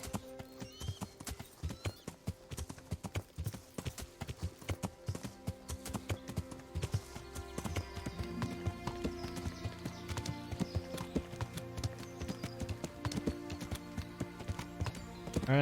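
A horse's hooves in Kingdom Come: Deliverance clop rhythmically and quickly over game music, with a whinny and the pace staying brisk throughout.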